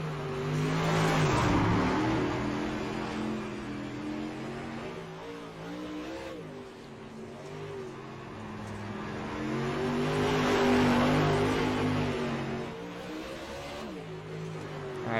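A dirt race car in iRacing roars under throttle, surging twice as it drives out of corners, with rising revs, dips on lift-off and a steady loud engine drone throughout, no talk.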